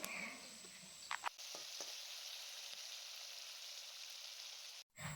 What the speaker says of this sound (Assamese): তেলতে গোটেই মাংসখিনি ভালদৰে গোটেইখিনি সিজাকৈ ভাজি লৈছোঁ।